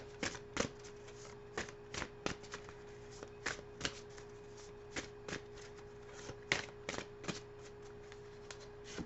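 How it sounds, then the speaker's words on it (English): Oracle cards being shuffled by hand in a quiet room, a steady run of crisp riffling bursts and soft slaps repeating every half second or so, fairly close and alone with no talking. "So now we'll pull a card here from Archangel Gabriel"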